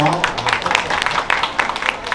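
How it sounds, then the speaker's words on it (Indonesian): A crowd at a fashion installation event at Margo City Mall gives a short round of applause. Scattered, uneven claps run throughout beneath a voice. "Tepuk tangan dulu untuk Margo City Mall"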